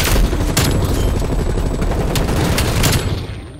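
Sustained gunfire in the shooter game Call of Duty: Black Ops Cold War, dense overlapping shots with a few sharp louder bursts over about three seconds, loud and close, tailing off slightly at the end.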